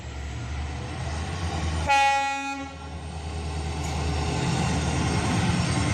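A train at a station sounds its horn in one loud, sustained blast lasting under a second, over a low rumble of the idling engine and railway background.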